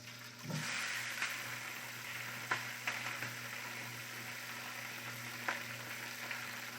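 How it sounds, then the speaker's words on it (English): Steady, hissing sizzle of broccolini frying in a hot pan, continuous and close, with a low hum underneath and a few soft clinks. "And I want that sizzle, right? I want it to sizzle."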